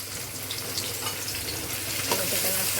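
Chopped onion fries in a pan for a noodle dish, giving a steady close sizzle with light stirring scrapes throughout, no talking.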